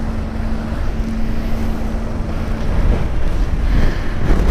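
Strong wind roars and buffets the microphone steadily, a loud, rumbling rush with no breaks, growing slightly rougher toward the end.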